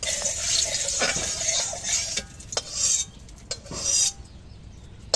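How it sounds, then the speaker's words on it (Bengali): Spice paste being mixed with water in a bowl for a fish curry, heard as close scraping and clinking of a spoon against the bowl with soft liquid swishing, rising and falling in uneven strokes. "মশলার ভিতরে একটু জল দিয়ে গুলে দিচ্ছি"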